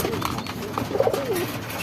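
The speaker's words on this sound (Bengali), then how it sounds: "সবগুলা কবুতরে খাবার দিলাম একসাথে দলবদ্ধ দেখাইতেছে" Pigeons in a loft coo softly at feeding time, one low rolling coo rising clearly for about half a second over a steady background hiss with faint rustling.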